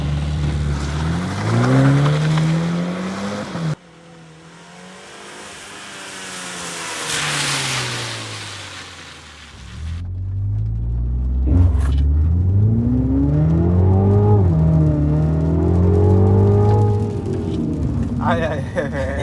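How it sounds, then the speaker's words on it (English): A MINI John Cooper Works front-wheel-drive hot hatch doing launch-control starts, engine revving hard through rising and falling gear pulls, loud from inside the car, with a driver talking over it. "Now let's do a few launches."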